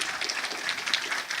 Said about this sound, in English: Applaud her as well.